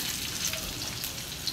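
Chopped onion sizzles gently in a pan over low heat, making a soft, even crackle that is fairly quiet and close, with no talking over it.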